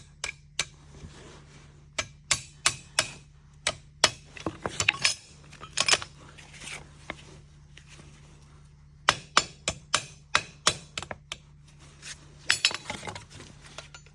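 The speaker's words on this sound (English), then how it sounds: "That's a hammer." A hammer strikes the pin on a John Deere rear three-point hitch with sharp, close metallic clanks in irregular bursts, some quick series of taps and some single blows, with no voices over them.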